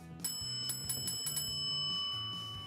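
Order-up bell struck several times in quick succession in a kitchen setting, bright ringing tones sustaining and fading, fairly faint and with no talk.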